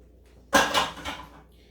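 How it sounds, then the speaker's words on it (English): A fork scrapes and thuds in a bowl while blueberries are folded into scone batter, one close, sharp burst with a couple of softer strokes trailing off. "Okay, that's all I'm doing is folding it in. And I always start off with a fork"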